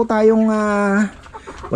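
A Darag native chicken on a farm gives a loud, close, drawn-out crow lasting about a second, followed by softer scattered clucks and farmyard noise.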